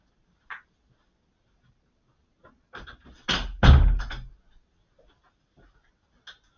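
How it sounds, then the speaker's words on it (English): A room door being shut indoors, a brief cluster of knocks and a heavier thud near the middle, close and fairly loud, with faint scattered small sounds around it and no talking. "I'm going to close my door real quick and I'll be right back."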